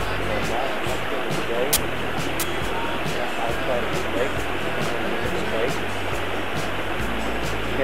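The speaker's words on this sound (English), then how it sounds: "Nice little creek flowing down the hill there." Creek water rushing downhill at the confluence of the West Fork of Cherry Creek and Buck Creek in the Sierra Nevada, a steady close roar filling the whole clip with someone talking over it.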